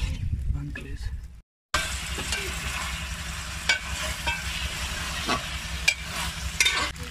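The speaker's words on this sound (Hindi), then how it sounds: "इसको घी में अच्छी तरह से आपने भून लेना है, लाल हो जाए जब फिर इसमें डालेंगे।" Mutton liver frying in ghee in a pan, a steady sizzle with occasional stirring clinks and scrapes throughout, briefly cut off near the start, with a person talking over it.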